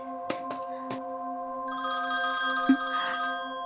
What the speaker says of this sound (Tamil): இந்த நேரத்துல யார் ஃபோன் பண்றது?